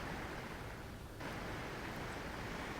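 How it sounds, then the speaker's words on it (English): Rushing water from the bottom plume of a waterfall, a dense, steady roar of churning spray, loud and continuous throughout with no voices. "waterfall bottom plume"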